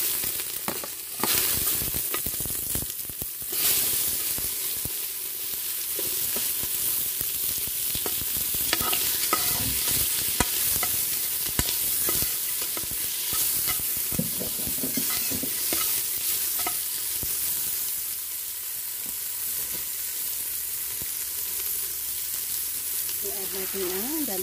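Onion, garlic and tomato fry in a pan for a Filipino ginataang gabi, a long, steady sizzle broken by clattering stirring strokes, with brief speech in places.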